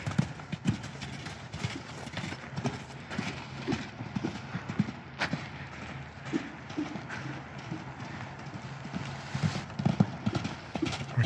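Hooves of mustang horses clip-clop steadily while one horse is ridden and another is led alongside, a close, continuous rhythmic patter of footfalls on the ground with soft snorts and faint noise mixed in.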